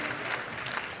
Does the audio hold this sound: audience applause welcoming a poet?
yes